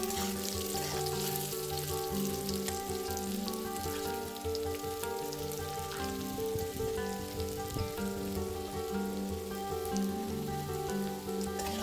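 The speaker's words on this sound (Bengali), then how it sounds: "এই আলুগুলোকে ভালো করে নেড়ে ভেজে নিতে হবে" Potato pieces fry in hot oil with salt and turmeric for a Bengali jackfruit kalia, giving a steady, dense crackling sizzle throughout with music playing underneath.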